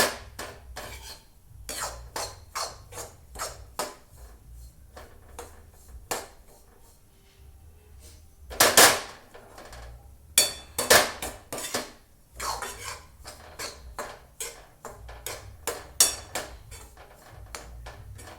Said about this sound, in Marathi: मस्त भाजून टाकायचा रवा हलक्या हाताने.